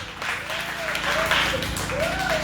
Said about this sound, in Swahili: Mungu akubariki, mpigie Yesu makofi.